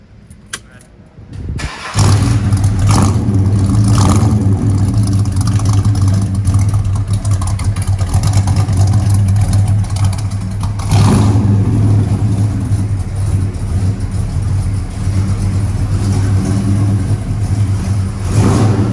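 A 1969 Ford Torino Cobra muscle car engine starts and then holds a loud, steady, deep rumble close by, with a few swells in revs.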